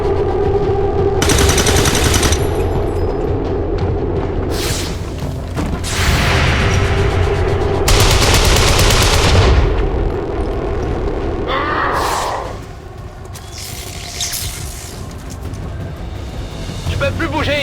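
Bursts of automatic weapon fire and explosive booms in the tactical video game XCOM 2, loud repeated volleys broken by short pauses, with voices talking over the battle.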